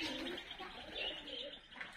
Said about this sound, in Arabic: هذا الحمام هم يبي اشكال